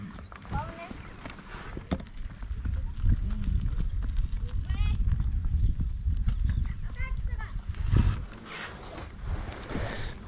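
A horse ridden on a Mongolian trip clip-clops at a steady walking rhythm, close and clear, with voices talking over it and a gusty wind in the background.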